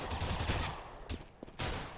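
CS:GO match on de_train: bursts of rifle gunfire crackle in quick succession, fairly loud and close, with short gaps between volleys.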